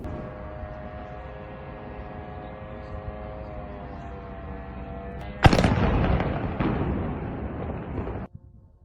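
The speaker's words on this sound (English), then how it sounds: "Residents of Tula and the region are reporting a large number of explosions." Explosions during a drone attack on Tula, heard from indoors: a sustained hum gives way to a sudden loud blast whose roar rolls on for a few seconds before cutting off abruptly.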